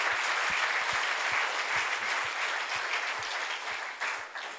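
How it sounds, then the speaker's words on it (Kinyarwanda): A church congregation claps in praise of the Lord Jesus, producing a dense, loud, sustained round of applause with a few rhythmic low thuds underneath, fading slightly toward the end. "Dukomere umwami wacu amashyi."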